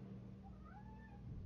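A pet cat lets out a single drawn-out, rising and falling meow, faint and close against a low background hum, with no voices over it.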